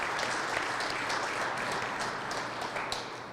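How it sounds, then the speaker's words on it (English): An audience applauds employers at a Connecticut Water awards ceremony during National Drinking Water Week, a steady wash of many hands clapping at moderate level, continuous and easing slightly toward the end. "I ask you to offer them a round of applause."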